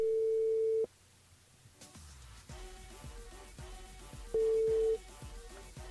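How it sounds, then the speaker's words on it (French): A telephone line tone sounds during a live radio call-in broadcast as the host rings a listener back: a long, steady tone at the start, music in between, then a second, shorter tone. "Nous rappelle Tatiana sur le standard."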